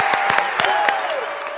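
An audience at a preteen church service claps for the cheer squad in a brief burst, with a tonal voice or music line running under the applause.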